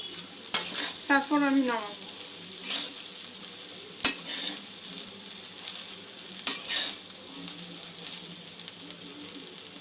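Pulao ingredients frying in a pan as they are stirred, a steady sizzle broken by a few scraping clinks of the spoon against the pan, close by, with a short spoken phrase near the start.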